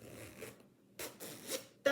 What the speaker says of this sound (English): It's a vintage metal zipper.